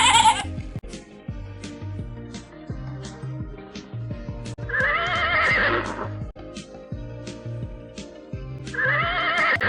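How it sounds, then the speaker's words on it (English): A horse whinnies loudly twice, long shrill neighs separated by a few seconds, with softer snorts and faint hoof sounds in between. "This is a horse."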